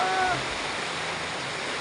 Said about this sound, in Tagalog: Sa mga panahon ito, pag umuulan, dami tulo.